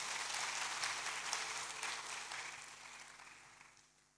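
A church congregation applauds, broad steady clapping that stays fairly quiet and fades away toward the end.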